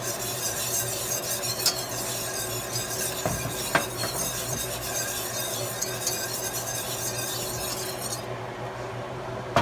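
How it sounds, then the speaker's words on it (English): Sugar caramelizing in a pan for citrus chicken gives a steady, moderately loud sizzle with a few scattered clinks of utensil against the pan, and no one talks. "take a little bit of sugar, about a tablespoon. Just going to caramelize it"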